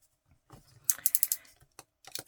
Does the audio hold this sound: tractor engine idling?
no